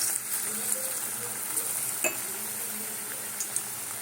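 Potato chops fry in hot oil with a faint, steady sizzle and a few soft clinks from a pan. No one speaks.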